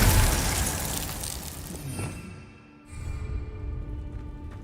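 Glacius ice spell cast in a Harry Potter video game, a loud burst of crackling, icy noise that fades over two seconds, breaks briefly, then leaves a quieter rumbling tail.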